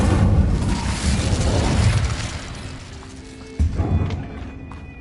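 An Incendio fire spell is cast in the Hogwarts Legacy video game. A loud, rumbling fiery burst dies down, then a second sharp thump follows near the end.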